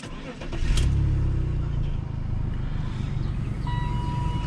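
A used car's engine cranks and fires up, then settles into a steady, rumbling idle close by, running without its emission equipment.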